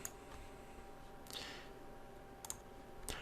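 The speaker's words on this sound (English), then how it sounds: "Then just click on create account." Several crisp, quiet computer mouse clicks spaced irregularly over a faint room hum, close up with no speech.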